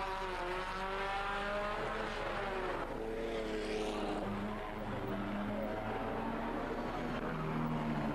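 Pre-war voiturette racing cars, among them a Riley Brooklands, Alfa Romeo Monza and Bugatti, race at the Monaco historic Grand Prix: a steady loud engine roar with shifting revving tones as cars pass, a commentator's voice faint underneath.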